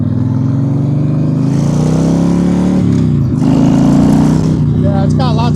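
A Honda Sabre 1300 factory chopper motorcycle pulls hard through its gears, with a loud, close engine drone rising in pitch, dipping at a shift, then climbing again, while a rider speaks over it.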